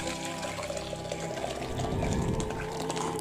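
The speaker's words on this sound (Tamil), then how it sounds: "இந்த பாருங்கள் கொதி வந்துருச்சு. இப்போ நம்ம பாத்திரத்தில் மாற்றிக்கலாம்." Freshly boiled dal pepper rasam is poured into a cooking vessel, giving a steady, fairly faint liquid splashing and filling sound that lasts the whole moment.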